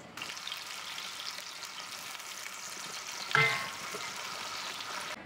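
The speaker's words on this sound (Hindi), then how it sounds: "इसको हल्का हल्का सा फ्राई करना है, ना डार्क हो ना बिल्कुल कच्ची" Onions frying lightly in a pan for a Pakistani mixed vegetable curry, a steady soft sizzle and crackle throughout with one brief clink of utensil near the middle.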